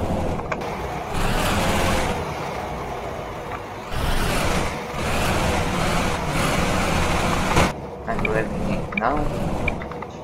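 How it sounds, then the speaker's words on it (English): A MAN Lion's Coach bus engine in Euro Truck Simulator 2 revs in neutral, rising and falling in several surges of low rumbling drone, with someone talking over it. "let's put it in neutral and give some revs."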